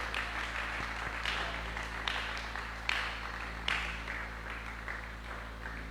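Church congregation clapping together, a continuous wash of applause with a few louder swells, heard at moderate distance over a steady low hum.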